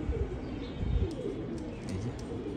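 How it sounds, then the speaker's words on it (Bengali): Pigeons cooing in low, soft repeated calls close by, with faint higher chirps and scattered clicks mixed into the steady murmur. "এই যে মাশাআল্লাহ স্ট্যান্ডিং কবুতর।"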